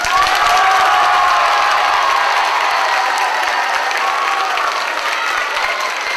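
An indoor audience at a church gathering breaks into loud sustained applause for a painting of Jesus Christ, a thick wash of clapping that holds steady for about six seconds.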